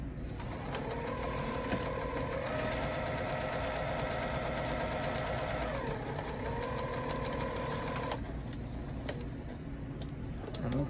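Sewing machine stitching a pillow seam, a steady rapid mechanical whirr with a rhythmic ticking that shifts pitch partway through as the speed changes, close and continuous, ending in a few light clicks, with no voices.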